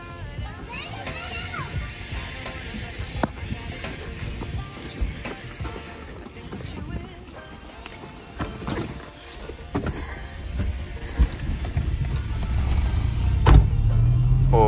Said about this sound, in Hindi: थोड़ा सा धक्का लगाने के बाद गाड़ी तो स्टार्ट हो गई हुई है